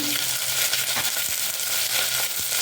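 Onions with coriander powder, chili powder and salt fry in a pan for aloo kurma, giving a steady, close, crackling sizzle with a few faint stirring clicks.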